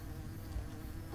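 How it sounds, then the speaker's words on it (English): Insect buzzing in the video game Hungry Lamu, a steady low drone of bees that runs faint and continuous for the whole short stretch, with no talk over it. "Why are there so many damn bees?"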